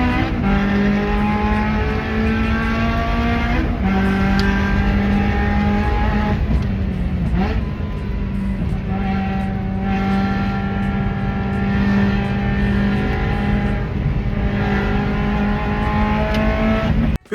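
A race car engine lapping a racetrack, loud and close, with sustained high revs that rise and drop sharply at each gear change and corner, running continuously with no talk.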